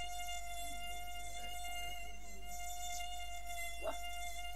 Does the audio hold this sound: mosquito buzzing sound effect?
yes